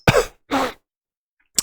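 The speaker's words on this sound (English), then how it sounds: "I'm still coughing." A man clears his throat and coughs: two close, rough bursts, a short pause, then a third sound at the end. The sounds are close and stand alone in silence.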